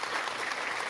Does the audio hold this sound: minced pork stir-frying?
no